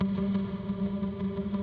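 Quiet processed electric guitar tone from the Zero-G Kepler Core Designer library, a sustained droning chord thick with distortion, chorus and echo, wavering slightly in level throughout the short sample, with no voices.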